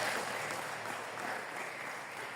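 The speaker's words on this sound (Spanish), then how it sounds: "Otro momento un fuerte aplauso al Señor." Church congregation applause for the Lord at a leaders' meeting, a soft, even wash of many hands clapping, fairly distant and steady with no voices.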